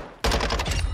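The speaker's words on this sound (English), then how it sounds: "I wasn't controlling the recoil. I was just shooting." A rapid automatic burst of video-game gunfire begins abruptly after a brief quiet, a dense, loud string of close shots with recoil-heavy rattle.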